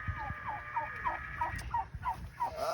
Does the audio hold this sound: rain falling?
no